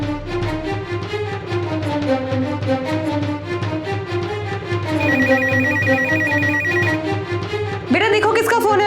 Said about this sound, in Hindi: बेटा देखो किसका फोन है?